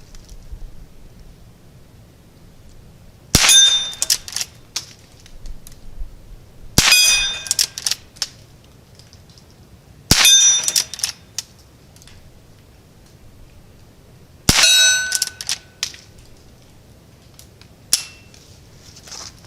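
A Henry Classic rifle fires four spaced shots, each a sharp crack followed by a ringing metallic clang from the struck steel target, with quiet stretches between them and no talking.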